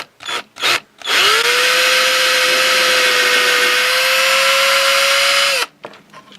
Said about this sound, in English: Let's get that drill on.